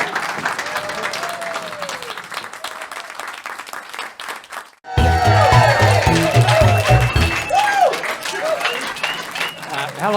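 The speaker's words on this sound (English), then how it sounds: "So how about a nice big warm round of applause for Emilie?" A studio audience at a comedy panel show applauds a comedian for about five seconds, a dense steady clatter of many hands that then gives way to louder music taking over the rest of the clip.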